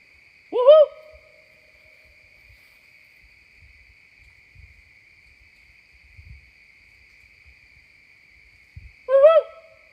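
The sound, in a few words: owl hooting at night in a cemetery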